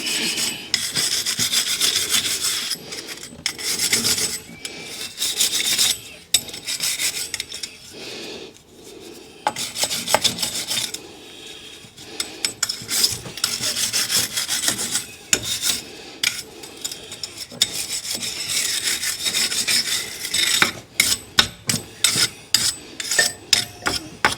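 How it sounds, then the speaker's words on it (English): Vigorous wire brush scrubbing on the wheel hub of a Rover 75 Tourer during a brake disc and pad change, harsh rasping strokes up close, speeding into short rapid bursts near the end. "get me wire brush and just clean up the hub like so"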